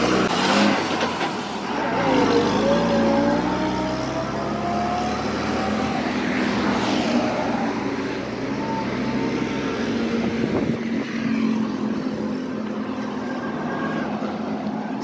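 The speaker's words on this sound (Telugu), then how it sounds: "ఆ లారీ పర్సన్ వెళ్తుంది కనిపిస్తుందండి" A lorry pulls away on a Kerala road, its engine rumble and tyre noise loud and near, holding steady with some wavering tones and slowly easing toward the end.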